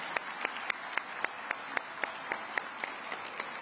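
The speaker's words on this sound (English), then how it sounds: "How about one more big round of applause for all of these people that made this happen here in our great city?" Applause at an outdoor civic ceremony in Detroit marking the award of a PWHL franchise, with sharp, evenly spaced claps in a steady rhythm.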